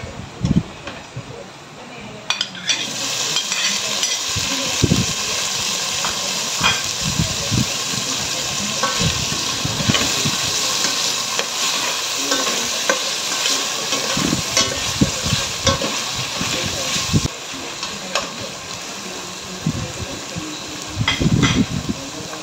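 Onions and tomatoes sizzling in a pan, a loud, steady hiss with frequent scraping and stirring clatter, while a person talks over it at times.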